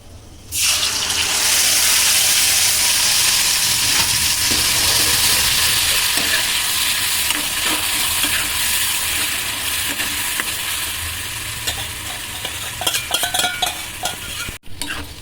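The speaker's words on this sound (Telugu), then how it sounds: "చింతపండును మంచిగా ఉడికించుకోవాలి కాస్త దగ్గర పడేంత వరకు ఉడికించాలి" Tamarind pulp simmers and is stirred in a pan, giving a loud continuous bubbling hiss that thins slightly over time, with occasional scraping stirs toward the end.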